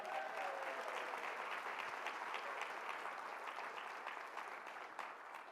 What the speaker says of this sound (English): We need to give a round of applause to the leader of that alumni association